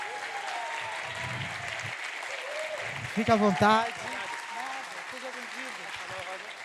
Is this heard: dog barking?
no